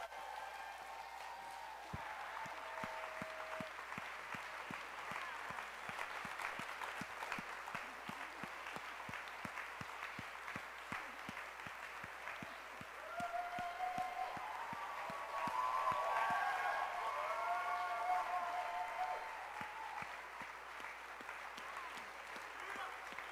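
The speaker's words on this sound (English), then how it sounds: "Can we give him a huge round of applause?" Sustained applause from a church congregation fills the room, steady and dense with claps throughout, swelling a little louder toward the end.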